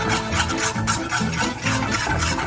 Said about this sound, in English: I'm gonna go ahead and add 2 tablespoons of flour, and I'm just gonna whisk that.